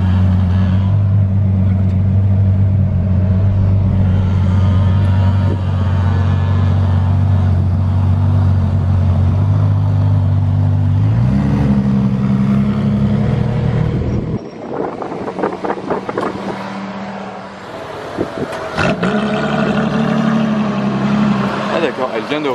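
A LaFerrari Aperta hybrid rolls slowly at about 10 km/h, then its engine restarts with a deep, loud rumble that rises in pitch, briefly cuts out, and returns to a steady throb, with people talking nearby.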